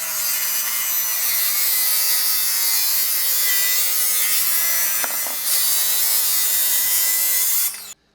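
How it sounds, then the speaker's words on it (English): A track saw makes a cross cut through wood for a small security cabinet. The loud, steady high whine of the blade biting into the wood runs continuously for about eight seconds, then stops abruptly. "My table saw isn't big enough to do the cross cut, so I'm just going to use my track saw."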